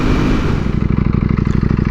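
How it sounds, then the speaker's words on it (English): A Ducati Panigale V4R with a loud aftermarket exhaust idles close by, then settles into a fast, even, throbbing pulse. The sound is strong and alone for about two seconds. "a loud exhaust definitely allows people to like notice me more"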